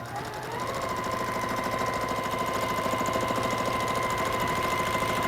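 A sewing machine stitches free-motion loops across a quilt, its motor starting up and then running at a fast, steady, even hum, close and moderately loud with no talking.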